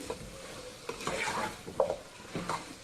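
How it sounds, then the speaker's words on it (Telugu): Chicken biryani masala is stirred in a pot, giving a short run of scraping, wet clattering strokes with a faint sizzle underneath. The sound is close and lively, and no one speaks. "చూడండి బాగా మిక్స్ చేశాను నేను."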